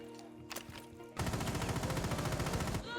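Automatic gunfire from Rainbow Six Siege rakes a wall in a loud, rapid continuous burst lasting about two seconds, following a couple of quieter shots and clatter.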